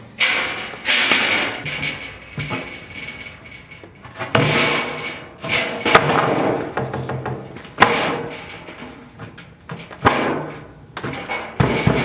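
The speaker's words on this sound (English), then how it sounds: "I'll put some plywood on here." Plywood sheet set onto metal shelving meant to hold an old anvil, giving a series of loud, close wooden knocks, scrapes and clatters spread across the stretch with short pauses between.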